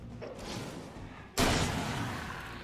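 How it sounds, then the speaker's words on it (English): A double-barrel shotgun in the Alan Wake game fires one sudden, loud blast that follows a dim rumbling lead-in, and its broad roar fades slowly afterward. "I would now maybe take out your shotgun."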